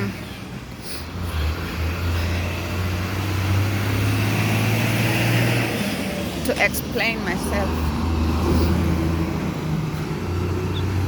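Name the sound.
road traffic noise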